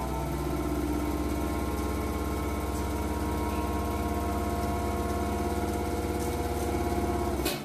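A vintage Singer 101-4 sewing machine runs steadily at speed, a smooth continuous motor hum with a fast even stitching rhythm, close and fairly quiet, stopping at the end.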